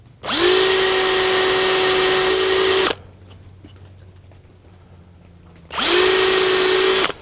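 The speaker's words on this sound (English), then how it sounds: "I'm going to put every one of these pegs in a vise, and I'm going to center drill them" A power drill center-drills wooden loom pegs clamped in a vise, running in two loud, steady whining bursts separated by a few seconds of near quiet.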